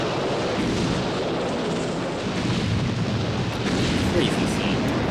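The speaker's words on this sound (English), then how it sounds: "It's because they have real explosions around." Explosions from the James Bond film You Only Live Twice rumble as a dense, sustained roar of blasts and debris, loud and continuous, with people's voices reacting over it.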